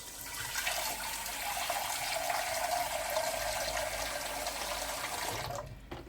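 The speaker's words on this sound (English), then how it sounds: "put a few inches of water in the bottom of a saucepan" Water runs steadily from a tap into a saucepan for several seconds, a continuous splashing gush that stops abruptly near the end, with no talking.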